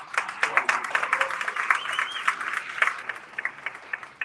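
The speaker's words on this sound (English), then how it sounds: "Give yourself a round of applause." An event audience applauding together, dense overlapping claps forming a sustained, fairly close wash of applause with occasional louder individual claps throughout.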